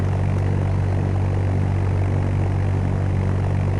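A propeller airplane starting to taxi in the Fly! II flight simulator game, heard as a loud, steady droning engine hum that stays constant and close throughout, with no talking.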